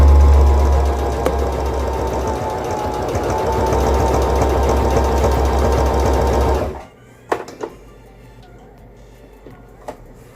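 Singer M3220 sewing machine stitching through leather and terrycloth, a loud, rapid steady whir for about seven seconds before it stops, followed by a few faint clicks and handling sounds.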